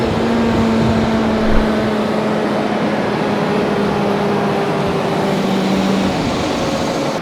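A Deutz-Fahr 9 series tractor's engine running at a steady drone with a broad, even roar and faint tonal hum, close and constant throughout without voices.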